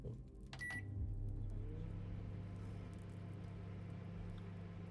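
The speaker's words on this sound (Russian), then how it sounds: "Микроволновку." Steady humming drone of a running microwave oven inside a video game, a continuous low hum that holds for several seconds after a brief beep-like tone near the start.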